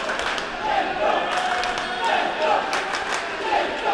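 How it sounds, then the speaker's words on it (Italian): Crowd roaring and chanting in the stands at a men's youth match in Misano Adriatico, a steady dense wall of voices with occasional higher whoops rising above it. "grande tifo qui sugli spalti a Misano Adriatico"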